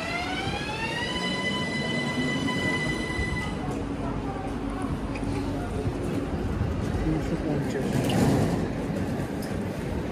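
Train running on the rails, heard from inside a second-class cabin: a loud steady rumble and clatter throughout, with a brief high whistle or squeal early on and voices talking over it.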